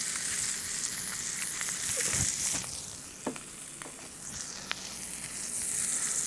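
A lamb burger patty sears in a smoking, oiled pan with a soft, continuous sizzle and a few sharp pops and crackles, heard close but fairly quiet, with no voices.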